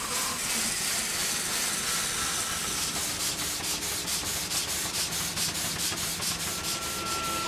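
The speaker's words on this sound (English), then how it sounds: "Here in my garden, I've got a steam engine that would do all the same things that Smirke's men would have needed" Steam engine driving stone-cutting machinery, a continuous loud hissing, rasping grind with a faint regular chuffing pulse underneath.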